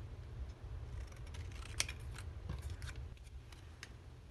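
Scissors snip through a handmade journal card in a quiet room, giving a faint series of small, crisp cuts and clicks over a low background hum.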